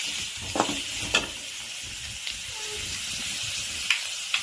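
Onions sizzle steadily in a hot pan while being cooked down for bread pakoda, a dense broadband hiss with a few sharp spatter pops and light stirring clicks, close and fairly loud.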